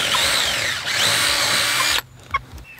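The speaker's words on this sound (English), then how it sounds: "And then this is a 3/8 drill bit." A power drill with a 3/8-inch bit whines loudly as it bores into wood in two long bursts, then cuts off, leaving a few small clatters.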